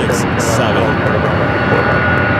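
Boeing 767 jet airliner at LAX, a loud steady engine roar filling the whole clip without letup, with a couple of brief higher-pitched bursts near the start.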